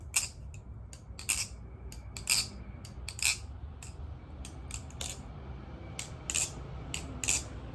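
A Maxace Covenant v2 balisong knife being flipped: crisp, bright metallic clicks and clacks in quick irregular clusters, close up, over a quiet background.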